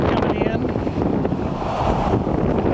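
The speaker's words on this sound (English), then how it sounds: "Really windy out here today. So you have to pardon the camera shake." Strong wind buffets a camera microphone outdoors beside a 2008 Durango 325 camper, loud, rumbling and continuous with no pauses.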